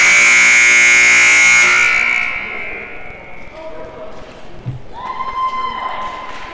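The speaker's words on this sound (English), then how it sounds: "the buzzer's about to go off" A loud, sustained electronic buzzer blares at a goalball tournament, holding for about two seconds before fading into the hall's ambience, with faint tones and background noise afterward.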